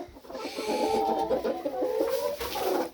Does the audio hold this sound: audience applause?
no